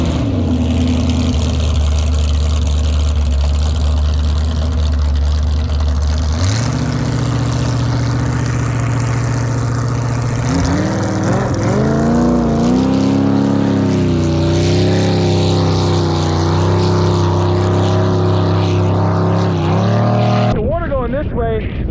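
A loud motorboat engine drones steadily throughout, its pitch rising and shifting as it revs, with voices talking over it; the boat tows a water skier.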